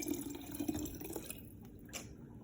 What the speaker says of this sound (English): So I just pour that in there.